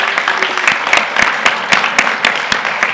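A press conference audience in Salt Lake City claps for Utah football coach Kyle Whittingham, a steady crowd of hands patting at an even, brisk rhythm with sharper individual claps standing out near the front.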